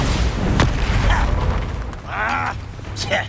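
The Bombarda explosion spell from Hogwarts Legacy goes off in a loud, continuous rumble of blasts, with sharp cracks and creaking, mechanical debris noises layered over a deep, sustained boom.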